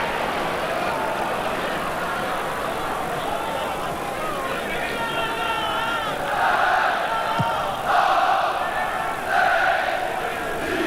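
A large football crowd at a 1988/89 Norwich v Arsenal Division match roars in sustained protest at a referee's decision, loud and continuous with swelling jeers and shouts toward the end, under a commentator's voice.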